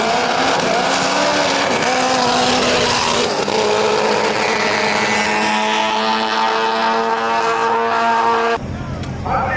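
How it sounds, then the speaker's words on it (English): A golf cart engine revs loud and steady during a drag race, its pitch climbing as it speeds up before the sound drops off sharply near the end. "Golf cart drag racing"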